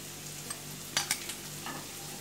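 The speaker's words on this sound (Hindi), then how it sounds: "ये देखिए हमने मैदे को अच्छे से बटर के अंदर, ऑयल के अंदर अच्छा भून लिया है।" Flour roasting in butter and a little oil in a pan, with a faint steady sizzle and a few quick spoon scrapes and taps near the middle, close and quiet, with no talking.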